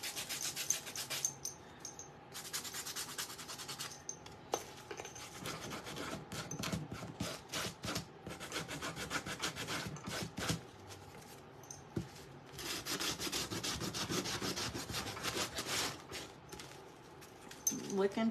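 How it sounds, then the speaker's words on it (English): A wooden craft cat gets its edges sanded by hand, giving a rhythmic scratchy rasping in short strokes with brief pauses, close and fairly quiet, with a person speaking at times. "We're gonna just sand the edges a little bit to kind of blend it all together."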